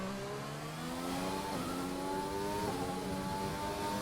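A race car engine in a racing video game, Canada round, on a hot lap, a loud, continuous high whine that climbs through the gears with quick upshifts, alone with no voices.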